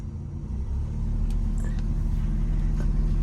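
Ford Fairmont engine fitted with Holley Sniper fuel injection, idling with a steady low rumble that builds slightly after the first second, close by, with a few faint clicks over it and no voices.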